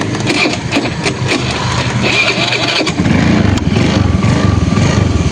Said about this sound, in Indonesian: kita nyalakan mesinnya dulu gengs